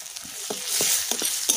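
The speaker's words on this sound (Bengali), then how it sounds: "নিমের পাতাটা ভালো করে ভাজা হয়ে গেছে" Neem leaf powder fries in mustard oil with Kashmiri chili powder and a pinch of turmeric, a steady sizzle broken by a few short scrapes of stirring, close and moderately loud.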